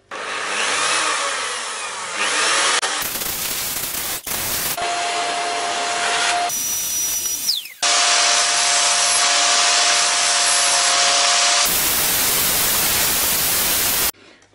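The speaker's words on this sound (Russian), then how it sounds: "Тут вот сейчас делаем эту ножку, шлифуем, сверлим." Sandpaper or a sander works over the leg of an old round wooden dining table, a steady loud abrasive rasp broken by brief pauses and shifts in pitch.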